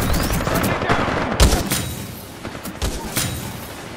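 Gunfire in a PlayStation video game, rapid bursts of shots with sharp cracks and booms, loud and dense at first and then thinning into scattered reports.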